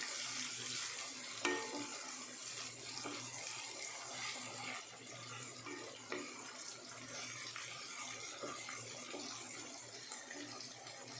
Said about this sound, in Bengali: আদা রসুনটা ভালো করে ভাজা হয়ে গেছে